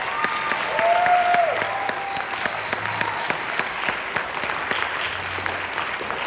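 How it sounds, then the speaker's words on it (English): Audience at a high school percussion spring concert applauding steadily, a dense wash of clapping that holds throughout, with a brief tonal sound early on. "So give them a round of applause."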